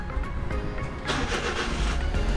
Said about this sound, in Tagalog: So start natin yung makina natin.